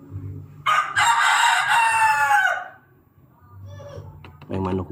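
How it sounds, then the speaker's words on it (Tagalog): A rooster crows once nearby with a loud, drawn-out call, followed by softer clucking, over a low background hum and a voice speaking. "May manok dito."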